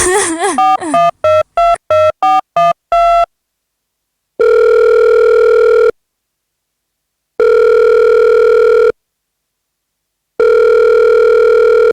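A telephone call is placed: a quick run of keypad beeps, then three long, steady ringing tones separated by even silent gaps, loud and clear with no voices.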